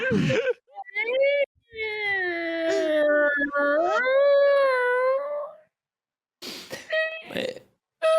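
A voice imitates a high-pitched, shrill, trumpet-like fart noise with long wavering tones, then a few shorter squeaky bursts after a pause, loud and close.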